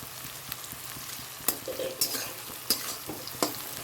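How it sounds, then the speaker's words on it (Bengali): Onions frying in a pan, a soft continuous sizzle broken by several sharp scrapes of a spoon stirring against the metal. "পেঁয়াজটা মোটামুটি ভাজা হয়ে গেল আর একটুখানি ভাজা হবে"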